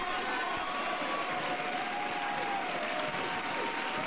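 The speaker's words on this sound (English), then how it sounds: "I'll put playing some applause for Ben" Recorded applause plays on a radio-style show, a dense, steady crowd clapping at constant loudness throughout, with no voices over it.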